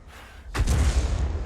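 FV304 self-propelled artillery gun firing in World of Tanks: one heavy, booming shot that hits suddenly and then rumbles and decays, close and loud, with no talk over it.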